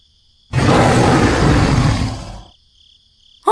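A loud, close dinosaur roar sound effect for a stop-motion toy-figure battle: one sustained, rumbling bellow of about two seconds that fades out, with a high insect-like chirp humming before and after.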